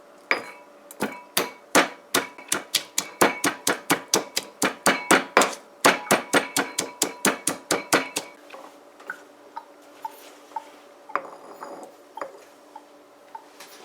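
Broadleaf thyme, celery, pepper and garlic pounded in a mortar, a rapid run of sharp, loud, evenly spaced thuds for about eight seconds, then quieter scattered taps with faint kitchen background.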